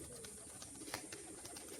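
A green male fancy pigeon, kept with others for sale, coos softly and repeatedly against a faint background hiss. The quiet, low cooing seems close but gentle, and no one is speaking.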